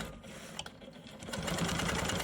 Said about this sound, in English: I'm just gonna be stitching on top of a previous line of stitching.